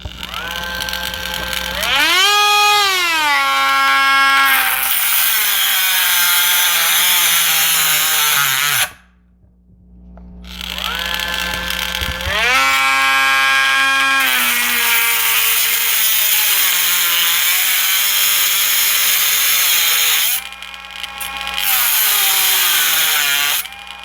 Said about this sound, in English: Nice thing about this Dremel is that if it feels like it's getting bound up, it shuts off automatically.